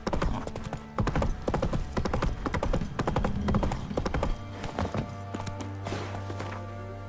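Roach, Geralt's horse in The Witcher 3, gallops in a rapid, loud clip-clop of hooves that runs steadily throughout, with a brief whinny and a low sustained tone rising near the end.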